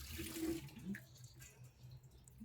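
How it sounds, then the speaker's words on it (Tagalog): Running tap water while washing hands in a home kitchen during cooking: a soft, steady splashing stream, quiet and close, with a few brief tonal blips and no talk. "maghugas mo tayong kamay"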